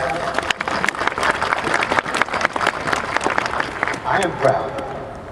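An audience at a 2011 Penn GSE commencement ceremony breaks into sustained applause, a dense, even wash of many hands clapping that carries on for several seconds.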